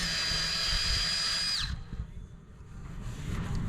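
A power drill enlarges holes in wet boat wood, a steady high whine that winds down partway through, followed by quieter rustling handling noise.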